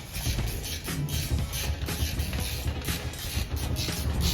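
Metal parts of a cage are wrenched together, a busy run of close ratcheting, clicking and scraping mechanical noises with no talk.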